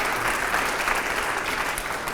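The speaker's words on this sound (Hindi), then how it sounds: "जोरदार तालियां हो यहां पर" Studio audience at a televised interview show giving loud, dense applause that holds steady throughout without a break.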